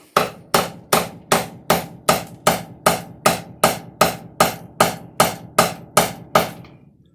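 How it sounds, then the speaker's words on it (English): A small hammer drives a wooden plug into place on a handmade indirect stick ishi tool, about fourteen sharp evenly spaced taps at a steady rhythm, close and loud, then silence. "I grabbed a little hammer. And we're going to see if we can force it all the way"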